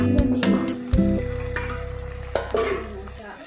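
Minapa garelu, lentil fritters, sizzle and bubble steadily in hot oil close by, with a few sharp clinks of a utensil and some low background hum, loud and continuous with no talk.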